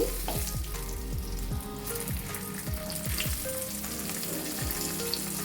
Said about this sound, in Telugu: ఇది ఇప్పుడు వన్ సైడ్ ఫ్రై అయిందో లేదో ఒకసారి చెక్ చేస్తున్నాను లిడ్ ఓపెన్ చేసి